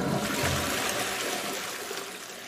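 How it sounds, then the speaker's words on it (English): A home shower runs as a steady, loud hiss of spraying water, close and continuous, with no talk. "Step 1, shower."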